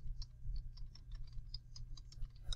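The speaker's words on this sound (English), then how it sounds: "So I'm going to type in natural disasters." Typing on a computer keyboard for a library ebook search, a quiet run of irregular light clicks over a low background hum, no speech.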